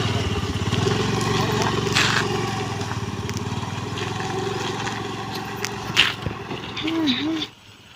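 A scooter engine runs steadily while someone learns to ride it, a continuous low hum close by with people talking over it, ending abruptly.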